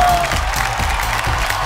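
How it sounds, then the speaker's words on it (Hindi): A crowd applauds in a dense, steady wash of clapping that holds at an even level throughout. "जोरदार तालियां हो जाए"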